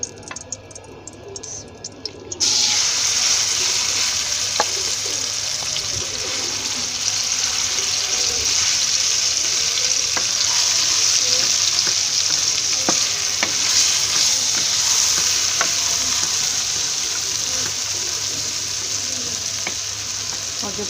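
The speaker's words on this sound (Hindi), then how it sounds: "2 चम्मच हम घी डालेंगे और जो हमने मसाला कूटा है उसको थोड़ा सा भून लेते हैं" Ground masala fries in ghee with a steady close sizzle, after a quiet start, and a spoon stirs with occasional soft taps against the pan.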